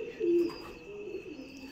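A pigeon gives a short, soft coo up close, then a fainter murmur follows against a quiet background.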